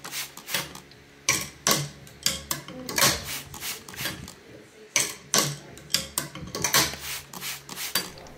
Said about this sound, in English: we're now going to do 20 swings in the wet